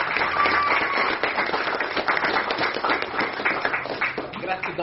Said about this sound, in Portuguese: Vamos aplaudir papai.